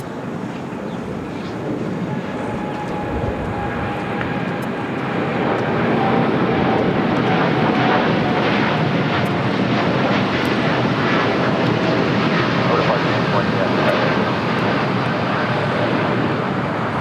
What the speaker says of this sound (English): This is United Airlines 2055 taking off to Newark on a 787-9 Dreamliner.